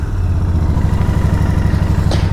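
A Royal Enfield Interceptor Bear 650 twin engine idles close by with a steady, low, pulsing thump and a faint mechanical clatter, and no voices.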